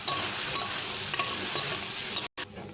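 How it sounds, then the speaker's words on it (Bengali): Soybean chunks frying in hot oil give a steady sizzle with brief crackling bursts and stirring scrapes, then a sudden short cutoff near the end; no talking. "তেল গরম হয়ে গেছে, দিয়ে দেবো সোয়াবিনগুলো।"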